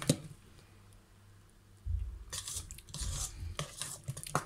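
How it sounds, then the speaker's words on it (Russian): A whisk works through batter mixed with flour, making close, rhythmic scraping and clinking strokes against the bowl that start after a quiet moment and continue steadily, with no talking. "Вот хорошенько подобью, чтобы у нас не было никакой не растворившейся муки."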